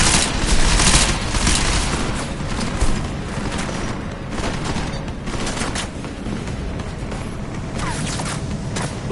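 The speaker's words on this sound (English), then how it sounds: "Lay down some cover fire!" Sustained video game gunfire as cover fire, dense rapid shots blending into a continuous loud roar with heavier booms at the start.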